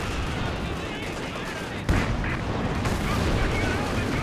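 Machine gun chatter and artillery fire fill a Company of Heroes 2 battle as a dense, continuous rumble of shots, with a heavier boom partway through, under background voices.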